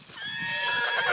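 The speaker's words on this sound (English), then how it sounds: "Go away, horse." A horse whinnies nearby, a loud, continuous neigh with a rising, wavering pitch lasting about a second and heard alone.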